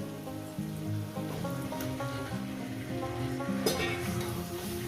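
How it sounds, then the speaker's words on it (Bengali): Chicken pieces go into a pan of frying spice paste for a home chicken and new potato curry, making a steady, close sizzle that carries under a loud musical backing. "এরপর দিয়ে দেবো চিকেন"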